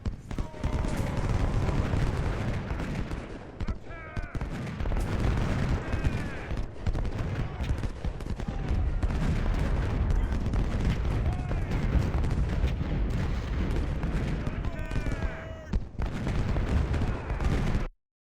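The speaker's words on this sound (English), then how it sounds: "Marsh is a good-sized 2-star unit, so I'll focus most of my artillery on him for the moment" Civil War-era artillery fire in Ultimate General: Civil War, with dense booming cannon volleys and crackling musketry rolling continuously, loud and layered, and a voice talking over the battle.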